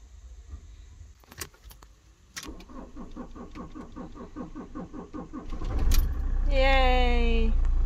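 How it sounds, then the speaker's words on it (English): A van with a starting problem cranks in a steady rhythmic churn for several seconds, then catches and roars into a louder running engine, with a few clicks and rattles before the crank and a brief voice at the end. "The van still has a starting issue."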